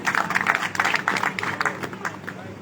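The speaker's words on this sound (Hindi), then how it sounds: "तो इनके नाम पे जोरदार तालियां हो जाए।" Audience applause for a poet at a Hindi poetry and ghazal recital, a steady dense patter of clapping across the whole stretch, moderately loud and close, with some crowd noise mixed in.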